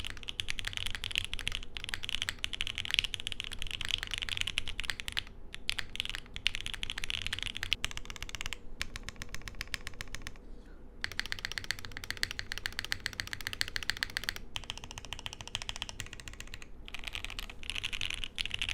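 Rapid, continuous typing on a Forever65 65% mechanical keyboard, close and crisp, with dense clacking keystrokes and a few brief pauses.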